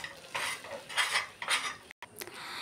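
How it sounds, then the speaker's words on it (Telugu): Peanut powder stirred into thick, hardened jaggery syrup in a pan, a few heavy scraping strokes of a metal spoon against the vessel, close and distinct, followed by a brief pause and a sharp clink, without any speech. "ఇప్పుడు మనం పల్లీల పొడి వేసుకొని కలుపుకోవాలి"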